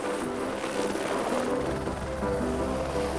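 A helicopter drones nearby, its steady rotor chop and engine whine filling the air without pause.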